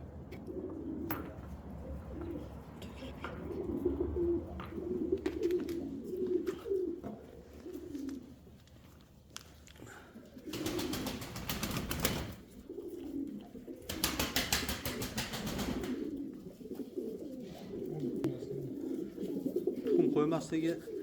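Uzbek pigeons cooing in a loft: repeated low, throaty coos rolling on close by, broken at intervals by bursts of wing flapping.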